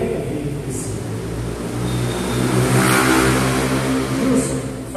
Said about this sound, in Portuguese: fecha essa porta aqui, para reverberar menos o som dessas motos aí